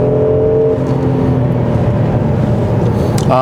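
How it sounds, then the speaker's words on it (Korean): A 2020 Hyundai Grandeur 3.3 Lambda V6 engine drones loudly and steadily near 5000 rpm on a winding road, a continuous strained hum with a brief rising whine near the end. "5000rpm 가까이 좀 도달하니까 좀 람다 엔진, 나 람다 엔진이었어 라는 그런 것을 확실히 좀 전해주네요"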